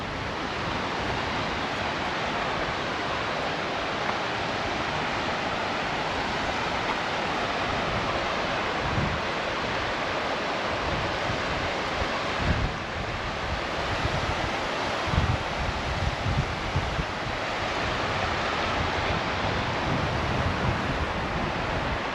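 Cold river water in Camprodon, Girona, rushes in a steady broadband roar, close and loud throughout, with some wind buffeting the microphone and no voices.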